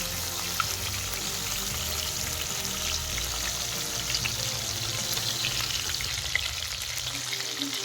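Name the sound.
prawns frying in oil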